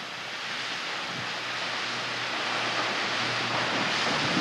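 A constructed waterfall cascading off a rock face, dropping from a top rock onto a second ledge and splitting into about three falls, gives a steady, broad rushing roar that holds at an even, moderately loud level throughout.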